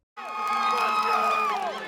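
Wrestling fans at a tournament in Des Moines screaming and shouting, a sudden dense wall of high-pitched crowd cheers and whoops held close and loud for about two seconds.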